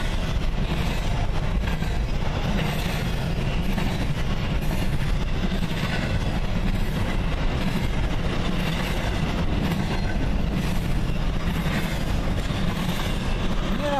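A CN Q199 freight train led by a C40-8 standard cab locomotive rolls past close by at Ladysmith, with a steady heavy rumble and wheel clatter lasting the whole time.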